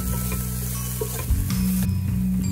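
Aromatics stir-fried with a teaspoon of soy sauce in a wok for sticky rice, giving a steady, close sizzle with a few scraping stirs, no voices.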